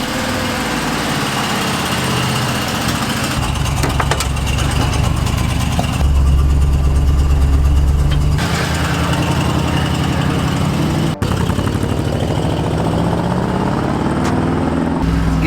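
A Ford truck's engine runs steadily at idle, a continuous low rumble with a brief surge in pitch and level partway through, then settling back to a steady drone.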